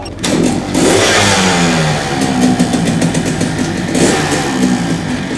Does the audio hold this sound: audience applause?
no